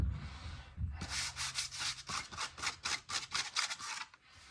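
Rhythmic back-and-forth strokes of 100 grit sandpaper rubbing the underside of a wooden cutting board, about a dozen close, steady passes after a brief pause.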